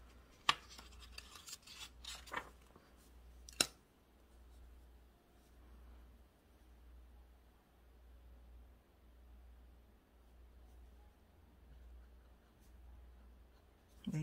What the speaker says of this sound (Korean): 이 문장은 다시 제노펜으로 한번 다시 써볼게요.